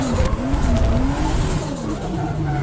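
A Nissan 350Z drifting roars loudly, its engine note rising and falling while tires squeal in long sweeping tones, close and intense without talk.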